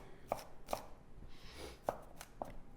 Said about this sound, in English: We're just roughly chopping all of our